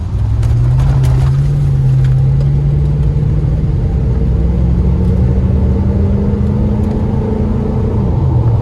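A C4 Corvette engine revs under full throttle, a loud, steady low drone climbing slowly in pitch as the car accelerates hard, then dropping off near the end, with no talking.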